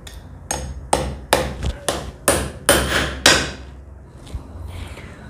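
Hammer taps on a nut threaded onto an anchor fastener pin, seven sharp metallic strikes at a steady pace, close and loud, then a faint final tap after a pause.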